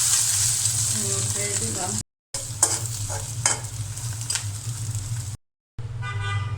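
An egg frying in a pan for a home-cooked meal gives a bright, continuous sizzle with scraping stirs. The sound cuts out briefly twice, and a short spoken word is heard.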